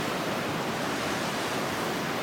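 A river flows nearby in a continuous broadband rush of water, even and unbroken, with no voices.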